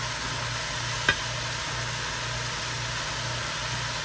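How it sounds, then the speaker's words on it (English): Cabbage stir-frying in a pan at home, a steady close sizzle with a low hum running underneath and a single brief clink about a second in. No speech. "this is a stir-fried cabbage now"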